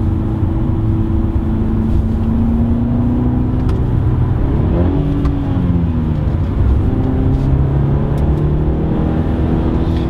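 Inside a 2019 BMW 330i xDrive G20 in sport mode with manual shifting, a steady engine drone holds under road noise, then shifts and rises in pitch as it downshifts and accelerates.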